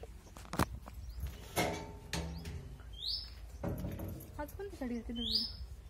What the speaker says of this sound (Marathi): लाल कलर चिमणी काय मंदिरामध्ये? किती पाखरं आतमध्ये.